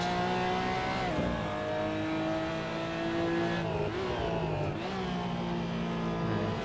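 A race car engine in the game RaceRoom drones steadily at high revs, pitch rising and falling with gear shifts, a continuous loud synthetic-sounding roar with no talking.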